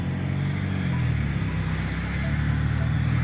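A car towing a Ford Mondeo with a broken timing chain drives off, its engine a steady, loud, close low drone with road rumble throughout.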